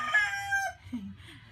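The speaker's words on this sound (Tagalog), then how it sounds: "yung mga manok nasa labas kasi" A rooster crows nearby outdoors in one long, loud, strained call, followed by a brief lower cluck from another chicken.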